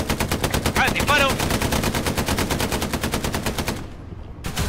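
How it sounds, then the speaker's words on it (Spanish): Rapid automatic gunfire in the World War II shooter game Hell Let Loose, a loud, close stream of evenly spaced shots that rattles on steadily with a brief break near the end. "¡Disparo!"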